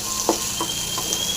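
Onion, garlic and green chili frying in a pan give a steady close sizzle, with a few soft stirring clicks over about a second and a half.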